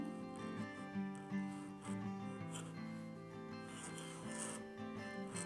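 A Nikko G nib scratches across paper during modern calligraphy lettering, giving a quiet, dry rasp that rises and falls with each stroke, with no voices.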